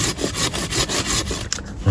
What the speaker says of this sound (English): I think what I'll do actually with this pruning saw is just do a little cut underneath